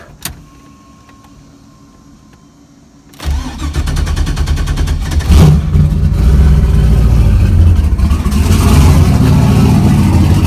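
A drag race car engine in street mode barks to life after a quiet lull, then idles loud and close with a rough, lumpy rumble and occasional revs building toward the end.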